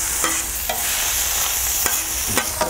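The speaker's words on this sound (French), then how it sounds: "Je retourne les pinces qui sont en train de cuire" Lobster claws sizzling on a hot plancha, a steady close hiss of frying with a few sharp scraping clicks as the claws are stirred and turned.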